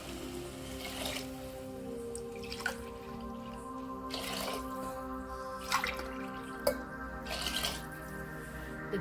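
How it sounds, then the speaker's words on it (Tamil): Water is poured over millet rice in a pot for samai biryani, a soft trickling and dripping with occasional splashy bursts against a steady background hum. "4 டம்ளர் தண்ணி ஊற்றிக்கலாம்."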